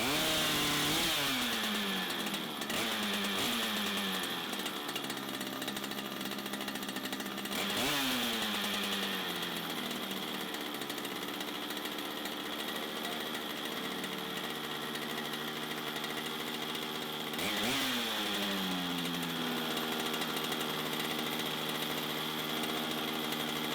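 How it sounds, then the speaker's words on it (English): A chainsaw fitted with a 60-inch bar runs loud and close for over twenty seconds, with repeated throttle blips that rev up and fall back over a steady roar. "So we'll run the saw"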